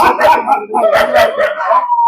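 Several dogs at a dog boarding hostel in a natural rural setting at Chettichavadi near Salem bark, yip and howl together in a loud, close, overlapping chorus that continues without pause.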